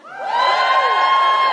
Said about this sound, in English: Give us a cheer if you're stridently and enjoyably single.